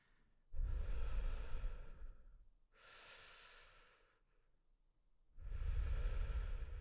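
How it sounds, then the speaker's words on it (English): Slow demonstration of continuous breathing: a long audible inhale, a softer exhale, then another strong inhale, each close and seamless with no talking. "learn how to breathe without taking a break. So inhale, exhale, inhale."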